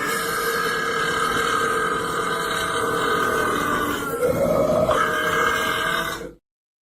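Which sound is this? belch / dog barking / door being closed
belch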